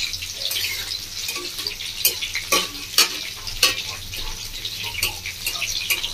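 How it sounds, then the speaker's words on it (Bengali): Mushroom pakoras fry in hot oil with a continuous crackling sizzle, punctuated by sharp clicks and scrapes from stirring or turning the fritters in the pan. "বন্ধুরা কিছু তেলে উঠেছি, তেলের উপর ভাজছি।"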